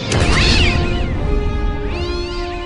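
A cat lets out a loud, drawn-out yowl as it crashes into clear crystal, the cry close and sustained, rising twice in wavering pitch over a brief span.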